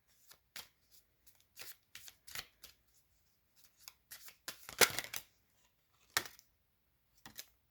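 A deck of tarot cards being shuffled by hand, with a series of short, soft riffling and slapping bursts at irregular intervals, quiet and close with near silence between them.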